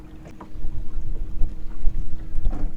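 A motorboat idles slowly past on a lake, its low, steady engine drone holding throughout, with gusty wind buffeting the microphone and small knocks nearby.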